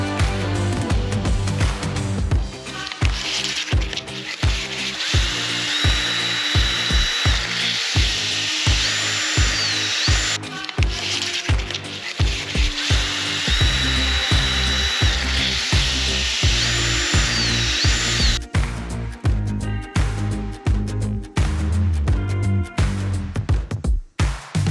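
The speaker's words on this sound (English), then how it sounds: "And then we can use the drill and a bit of sandpaper." Power drill spinning 200 grit sandpaper to clean parts on a rebuilt Yamaha YZF R125 motorcycle: a loud, sustained high whine with rhythmic grinding bursts as the paper bites the metal, close and continuous.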